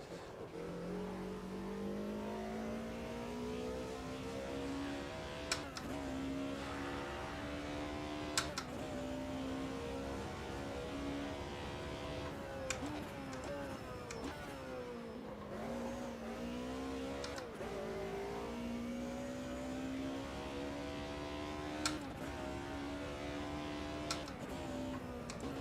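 Racing game engine of an early-1990s German touring car, running loud and continuous with rising, falling pitch as it revs through gears, brief shifts and dips, and no voices over it.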